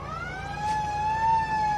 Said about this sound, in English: that's the siren to end the first quarter